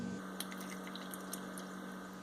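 Water is swished over homemade butter in a bowl during rinsing, with faint light splashes and drips over a quiet hum.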